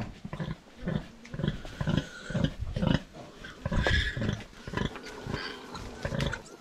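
Pet pigs and a litter of piglets grunt and squeal repeatedly in a pen, a busy overlapping chorus of close, rough snorts and grunts in uneven bursts.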